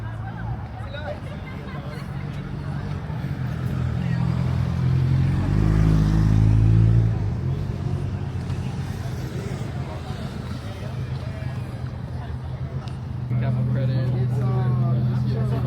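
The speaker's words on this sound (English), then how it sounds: "Crazy cool car meet." Engines idle and rev as cars drive past at a busy outdoor car meet, a loud low rumble swelling midway then easing, with crowd chatter and voices throughout.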